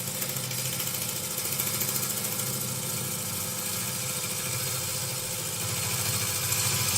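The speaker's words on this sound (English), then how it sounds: "that should give us a smooth planing cut" A wood lathe spins a 6 x 6 x 12 spindle blank while a gouge makes a planing cut, giving a steady, continuous whirring drone with a faint hiss of cutting, unbroken and even throughout with no talk.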